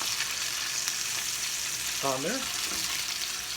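Chicken cutlets fry in a pan with a steady, close sizzle throughout, and a voice briefly speaks partway through.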